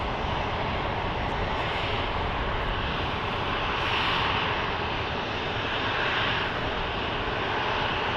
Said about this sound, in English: Our A330 from Paris is heading down there to runway 12 right.